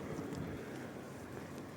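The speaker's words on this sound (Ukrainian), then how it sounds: "нас сьогодні такий вітер сильний" Steady low rumble of strong spring wind buffeting the microphone outdoors in Bielsko-Biała, continuous and fairly loud with no voices.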